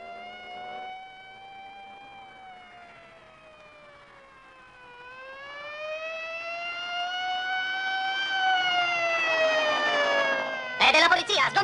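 A police siren in the 1971 Italian-dubbed film Vanishing Point wails loudly and alone, its pitch dipping, then climbing steadily over about ten seconds before a burst of harsh noise cuts in at the end.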